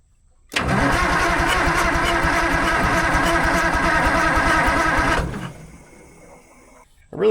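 Diesel engine of an Allis Chalmers 645B loader cranking hard and steadily for about five seconds without catching, loud and close, then the starter cuts off and another crank begins at the very end.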